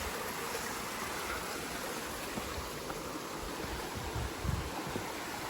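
A steady, broad rush of the Cerezuelo river in Cazorla, constant and fairly close, like a stream running over rocks, with no voices.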